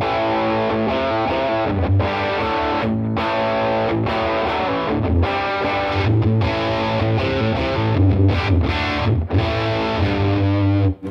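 Distorted electric guitar chugs through an amp with a thick, boomy, flubbing low end that swells and blurs under the chords, loud and continuous.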